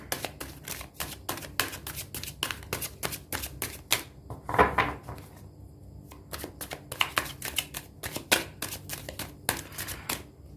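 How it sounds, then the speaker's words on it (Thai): Tarot cards shuffled by hand make repeated quick, crisp riffles and flicks close by, in an uneven rhythm with a brief pause near the middle. "ถ้าสับไพ่นานเกินไปนะคะ สายก็จะเลือกไพ่ให้นะ"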